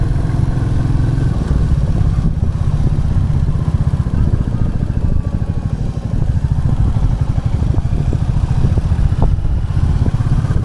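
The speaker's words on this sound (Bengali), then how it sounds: "সেটা যদি হয় নিজের বাইক নিয়ে নিজে ফিল করতে করতে চালানো" A motorcycle is ridden on a foggy hill road from Siliguri toward Takdah near Darjeeling, its engine a steady, close drone with mechanical clatter running without pause.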